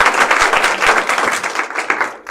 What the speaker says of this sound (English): give another round of applause for our speaker